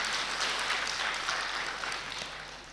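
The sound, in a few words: audience clapping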